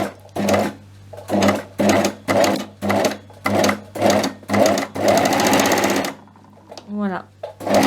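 An overlock serger sews in short bursts. Several rapid whirring runs are separated by brief pauses, then one longer sustained run follows, with a steady hum underneath and a brief squeak at the end.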